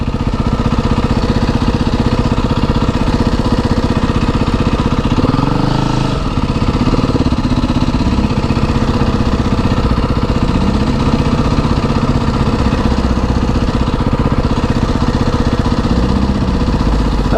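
A four-stroke engine runs close by, giving a loud, steady mid-range drone with slight shifts in pitch and no talking over it.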